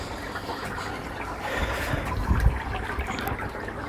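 Water trickles and splashes into a wheelie bin pond pressure filter, a steady low wash of flowing liquid with a slight surge midway, with no voices.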